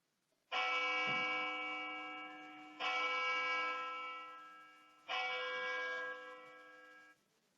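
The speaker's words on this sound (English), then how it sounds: "They give everyone a turn to ring the old brass fire bell outside the firehouse." An old brass fire bell rung outside a firehouse, struck three times, each loud metallic clang ringing with rich overtones and slowly fading before the next strike.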